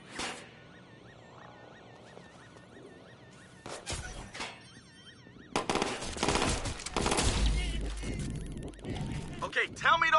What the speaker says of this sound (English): Okay, tell me those weren't gunshots.